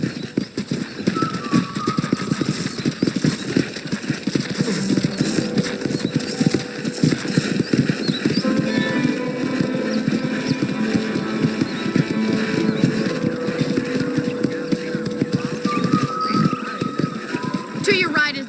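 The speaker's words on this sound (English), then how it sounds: "I picked out a fine horse for you. Giddy up!" Hooves clip-clop steadily at a brisk riding pace as a horse is ridden around a ranch in Red Dead Redemption, with an occasional neigh, game music and voices talking over the galloping.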